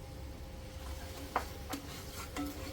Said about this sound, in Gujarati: તો હવે આમાંથી છે ને તેલ છૂટે ને ત્યાં સુધી પાછું આપણે શેકવાનું છે ને